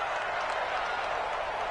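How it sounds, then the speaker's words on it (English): A stadium crowd in a PS4 football game gives off a steady, distant roar of cheering and applause, an even wash of noise throughout with no distinct voices. "And this crowd into it early."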